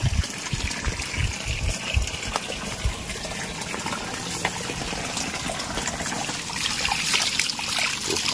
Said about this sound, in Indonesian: Udah mau cuci buahnya dulu ya.